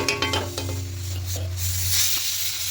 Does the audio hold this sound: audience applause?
no